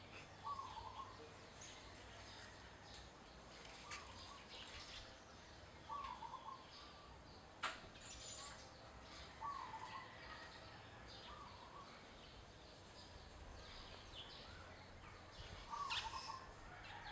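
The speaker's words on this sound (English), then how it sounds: "Zebra song, what I like to refer as a perch coo," Wild zebra dove perched near Cebu in the Philippines, giving short soft cooing phrases repeated every few seconds at a moderate distance, with faint chirps and insect hum in a quiet outdoor background.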